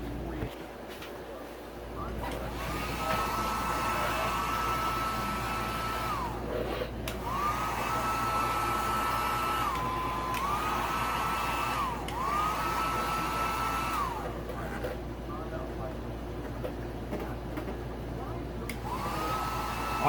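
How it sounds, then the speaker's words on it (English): A heat gun, hotter than a hair dryer, blows steadily to warm a motorcycle graphic decal during installation, a continuous close whooshing hum with a whine that rises and falls as it is worked, and someone talking over it. "These heat guns are they're like a blow dryer, a hair blow dryer times 3 or 4."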